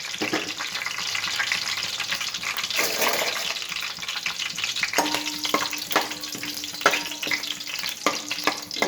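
Bay leaf, cloves and dried chillies frying in hot oil while cooking fish curry, a dense close sizzle with light stirring scrapes and a few sharp ticks from a utensil on the pan.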